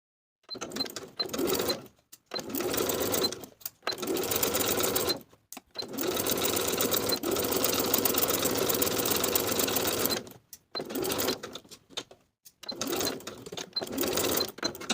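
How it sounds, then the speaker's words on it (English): A sewing machine edge stitches a folded pajama collar in several runs, loud and close, each burst of rapid stitching separated by short pauses. "Then we'll edge stitch that folded edge in place."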